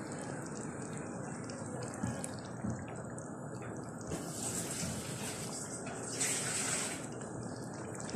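Water poured into a pot of rice in a home kitchen, a steady soft splashing and trickling stream that continues throughout, fairly faint and close, with no talk over it.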